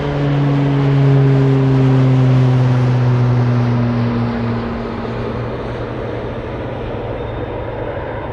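A Beechcraft King Air aircraft at Anchorage airport, its steady engine drone loud and close at first with strong low tonal lines, then easing and fading slightly as it moves away.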